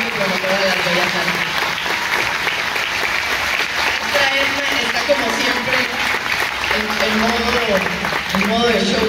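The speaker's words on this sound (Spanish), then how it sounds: "fuerte el aplauso para la maestra Daria Abreu" Loud, sustained audience applause at a choral concert in Tijuana honoring a choir teacher, a dense even wash of clapping with voices speaking and calling out over it.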